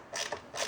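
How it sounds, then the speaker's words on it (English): Snap-on ratcheting screwdriver clicks in a few quick ratchet bursts while backing out the stock screw on a Saiga AK rifle, faint and close, with no talk. "A little snap-on ratcheting screwdriver makes this so much less of a hassle."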